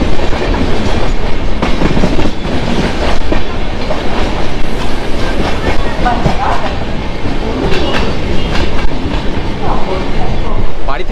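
A Howrah to Tarakeswar local train running toward Sheoraphuli, heard from inside the carriage as a loud continuous rumble with clickety-clack of wheels on rail joints and faint voices in the background.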